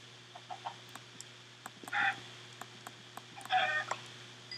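Chicken clucking in the Minecraft video game, a few short clucks scattered over a steady low hum, with two louder bursts of clucking near the middle and end.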